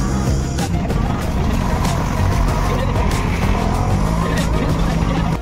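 An auto rickshaw carries riders toward the base of a fort in rainy weather, its engine droning loudly and steadily up close with road noise throughout.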